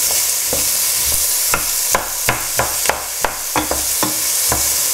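Onions and peppers fry in a pan for shakshuka, with a steady loud sizzle throughout and a utensil scraping and tapping against the pan roughly every third of a second as the vegetables are stirred.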